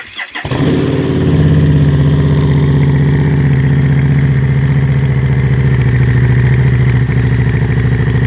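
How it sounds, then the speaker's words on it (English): A Harley-Davidson motorcycle fitted with an aftermarket muffler fires up and settles into a loud, steady, high idle, its low rumbling thump close and continuous with no talking. "She idles high at first, of course. There's that fire brand muffler."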